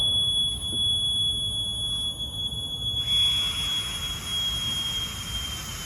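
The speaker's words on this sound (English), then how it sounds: "That's my low air alarm." Low air alarm from a Scott SCBA firefighter breathing pack, a steady high-pitched electronic tone running continuously and loud throughout, with a shift partway through as a broadband hiss rises beneath it.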